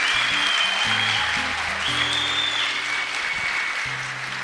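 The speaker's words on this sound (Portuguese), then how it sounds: "você está aplaudindo por quê?" Audience applause at a Catholic religious talk, a steady wash of clapping with a sustained tonal sound, likely music, running beneath it.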